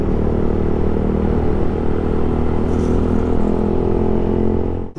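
Suzuki Gixxer motorcycle fitted with an SC Project exhaust and dB killer, its engine running with a steady, loud, continuous low drone and rumble throughout, no voices over it.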